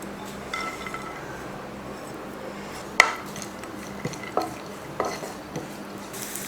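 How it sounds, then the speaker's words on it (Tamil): Nuts frying in ghee for sheer khurma, stirred in a pan with a soft sizzle beneath scattered metallic clinks and scrapes of the spoon against the pan, one sharper knock standing out. "இப்போ இதை வறுத்துக்கலாம் நெய்யில்."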